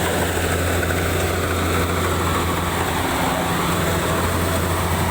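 Combine harvester engine running steadily while a young child drives it through a rice harvest, a loud continuous droning hum with a deep low throb and whining mechanical layers, close and unbroken throughout.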